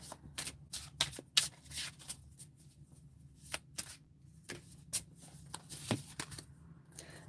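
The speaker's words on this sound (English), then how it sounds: "I feel like I want to pull cards from this deck real quick." Tarot cards are shuffled from a deck close up, giving a quiet run of crisp riffling and snapping flicks in an irregular rhythm with no talking.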